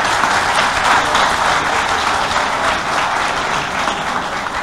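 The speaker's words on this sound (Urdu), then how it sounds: "تو بھرپور تالیاں" Full, sustained applause from an audience at an Urdu mushaira poetry gathering in Bahrain, a dense even wash of clapping that holds loud throughout.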